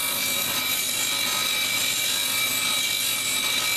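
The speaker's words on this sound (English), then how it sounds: "Grind a little more off there." A stone cabochon is ground on a wheel to shape its dome, a steady, loud abrasive whir with a constant tonal hum running unbroken throughout.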